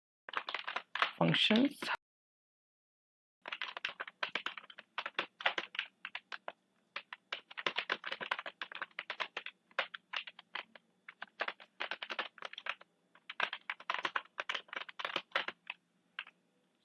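Python code being typed on a computer keyboard: rapid, close bursts of clicking keystrokes in uneven runs, with a brief spoken word near the start.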